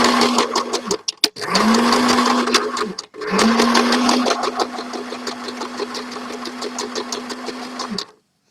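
A sewing machine sews a tie-dye shopping bag in three bursts of steady stitching with brief stops between, its motor whirring loud and close at an even pitch.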